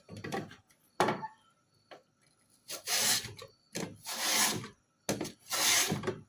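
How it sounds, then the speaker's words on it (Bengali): Potatoes being sliced into thin chip rounds on a handheld potato cutter, giving a series of loud rasping strokes, a few short scrapes early on, then three long grating passes, close and with no voices. "এখন আমরা এরকম একটি আলু কাটার মেশিন দিয়ে আলুগুলোকে স্লাইস করে নিব চিপসের মতো করে।"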